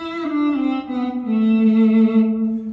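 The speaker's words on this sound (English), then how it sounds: "I'm using physically modelled violin and viola sounds" A physically modelled Swam viola played from a QuNexus MIDI keyboard sings a short bowed phrase of two sustained notes, the second lower and held, with no voices.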